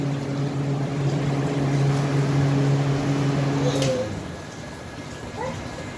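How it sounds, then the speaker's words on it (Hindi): A repaired household air cooler runs with a steady motor hum and fan whir, then winds down partway through, leaving a quieter room tone while a person talks over it. "कूलर ठीक हो गया है, चल नहीं रहा था"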